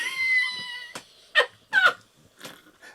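A cat in the Stray video game meows several times, clear and close, in short separate calls with pauses between them.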